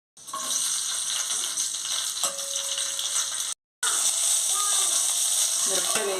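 Green chillies frying in a little oil in a pan. Bright, dense sizzling runs steadily, breaks off briefly, then resumes with some stirring clatter.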